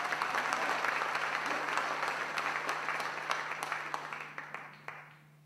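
Warm applause from a jazz club audience honouring the musicians after a tune, dense steady clapping that gradually thins and fades out over about five seconds, with a low steady hum underneath.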